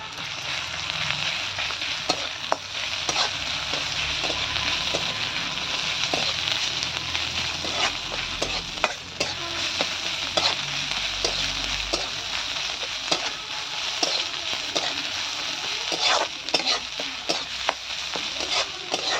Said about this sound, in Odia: ଦେଖ ପିଆଜ ନାଲି ହେଇଗଲା ପରେ ଅଦା ରସୁଣ ଛେଚା ପକେଇଲି